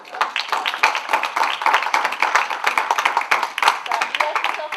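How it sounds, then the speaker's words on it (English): Audience applauding at a charity talk honoring a long-serving couple, steady dense clapping from many hands throughout, fairly close and loud. "I think they deserve an applause."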